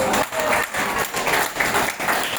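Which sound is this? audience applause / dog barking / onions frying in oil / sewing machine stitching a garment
audience applause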